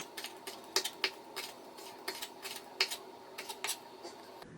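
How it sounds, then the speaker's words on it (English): A knife chops chili into small pieces on a cutting board for a salmon soup, making quiet, crisp taps in an uneven but steady rhythm, heard close up with no talking. "for the chili, I'm going to cut in small pieces."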